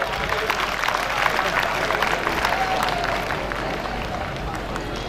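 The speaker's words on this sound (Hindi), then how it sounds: "नन्हे मुन्ने बच्चों के स्वागत के लिए तालियों से स्वागत करें ताकि इनका उत्साहवर्धन हो" Applause and crowd noise fill a student award ceremony at Shri Ramlila Maidan, greeting young children. Dense, steady clapping from a large audience runs the whole time with a murmur of voices underneath.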